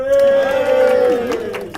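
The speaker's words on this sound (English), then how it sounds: "Round of applause." A crowd cheers at a party toast for business partners, with one loud sustained whoop standing out over the group's noise throughout.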